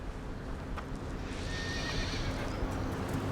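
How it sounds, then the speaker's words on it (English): A horse neighs in a steady whinny over a continuous background rumble, with clip-clop hoof sounds mixed in; no one speaks. "Is that a horse?"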